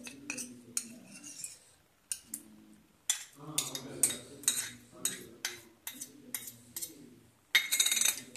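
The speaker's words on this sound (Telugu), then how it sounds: "ఒకసారి బాగా కలపండి." Spoon clinking against a glass while stirring a basil seed drink, a quick series of light metallic taps in an irregular rhythm, close and clear with no voices.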